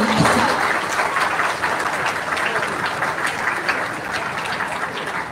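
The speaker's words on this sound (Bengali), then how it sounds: "খুব জোরে হাততালি চাই।" A stage event audience in Belbari, Tripura claps steadily as a woman is called up, a dense, sustained wash of applause fading slightly over several seconds.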